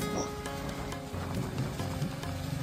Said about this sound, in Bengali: দেখলাম বৃষ্টি হচ্ছে